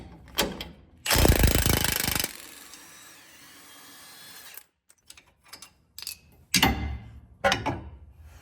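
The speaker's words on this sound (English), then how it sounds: "now using a 21mm socket, I'm going to remove the bolt securing the track bar to the axle" Close impact wrench or power ratchet with a 21mm socket breaking loose the track bar bolt at the axle of a Jeep Gladiator pickup, a loud sustained burst of about a second followed by quieter mechanical clicks and clanks.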